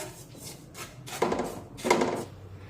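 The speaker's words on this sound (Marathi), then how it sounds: "मीठ व्यवस्थित सगळीकडे पसरून घेऊया" Salt being spread around the inside of a pressure cooker set on a gas stove, two gritty scraping rubs against the metal with soft rustling between them.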